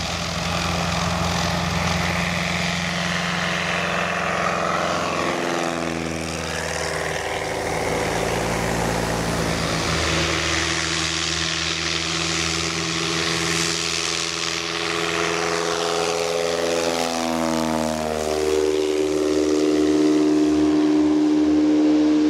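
A small propeller airplane flies over Alaskan hunting country, giving a loud steady engine drone whose pitch sweeps as it passes close.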